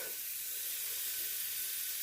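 Eggs sizzling in a hot pan with a sprinkle of salt, a steady close crackling hiss throughout with no talk.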